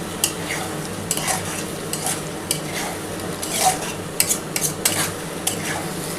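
Close, rhythmic scraping of a spatula in a pan as pointed gourd and potato sauté with spices, metallic strokes over a constant sizzle, no talking.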